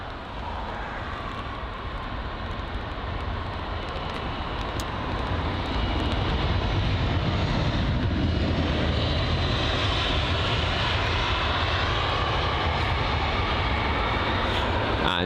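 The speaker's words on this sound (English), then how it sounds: "that's the BA A320 CEO, just arrived at runway 27 right." A British Airways A320ceo airliner arrives on runway 27R at Heathrow, its engines giving a broad, steady roar that swells and holds loud and near from about six seconds to the end, with no voices.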